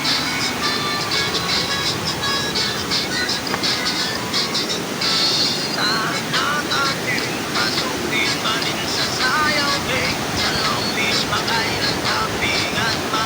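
Liwanag Falls in San Agustin, Romblon roars as a dense, constant rush of falling water, loud and close throughout with no break, while people talk over it.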